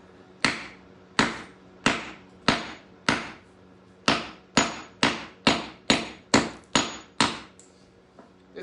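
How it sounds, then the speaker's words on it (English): Brick hammer striking a geode, roughly fourteen sharp, evenly spaced metallic blows at close range with short ringing decays, no talking. "The one good thing about the brick hammer is it's got that edge."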